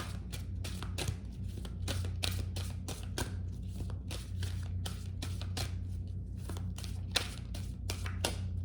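Tarot cards are shuffled rapidly and continuously, a steady rattling riffle of crisp slaps over a low background hum, with no talking.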